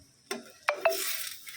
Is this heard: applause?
no